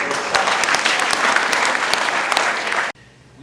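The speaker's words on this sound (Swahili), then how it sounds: "Kwa hiyo tupige makofi" Church congregation at a Christmas service clapping together, a loud, full round of applause that continues steadily for about three seconds and then cuts off abruptly into near quiet.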